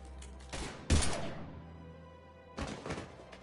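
Gunfire in a Mass Effect firefight: a few quiet, sharp shots and thuds, two close together early and another burst later, separated by a lingering low hum with no voices.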